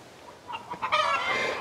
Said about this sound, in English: I think one of the hens is proud of an egg that she just laid.